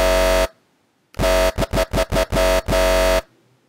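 A dubstep bass patch built in the Massive synth blares out in one long, loud burst, then after a short gap returns as a choppy run of rapid stuttering hits and two longer sustained notes, with nothing else underneath.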